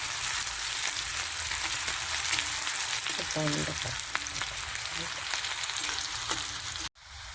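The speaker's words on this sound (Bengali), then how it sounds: "পেঁয়াজটা একটু ভেজে নেব ভালো করে।" Chopped onions frying in a pan make a steady, close hiss of oil, broken by a few light stirring clicks, before a sudden drop near the end.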